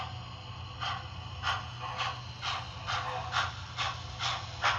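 Soft, regular hissing chuffs of a model steam locomotive's drift chuff sound repeat about twice a second over a low mechanical rumble, like a small steam engine coasting along.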